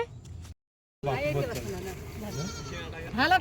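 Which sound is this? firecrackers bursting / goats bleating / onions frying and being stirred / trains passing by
goats bleating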